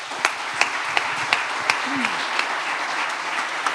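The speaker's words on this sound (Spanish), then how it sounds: "Démosle un fuerte aplauso a las familias numerosas." Steady audience applause for large families at a festival living-room talk, a dense wash of clapping with a few sharper individual claps standing out and a brief voice fragment underneath.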